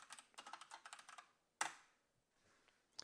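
A computer keyboard is typed on in quick bursts while entering text into a spreadsheet cell, a run of close, crisp key clicks followed by a single louder key press and a brief pause before another tap.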